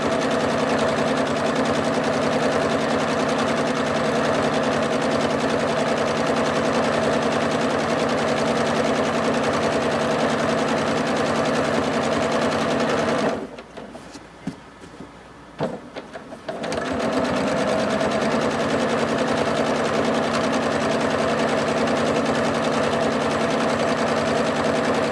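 A quilting machine stitches a ribbon candy design in a steady, loud, continuous whir, cutting out for about three seconds midway and then resuming at the same even pace. No voices.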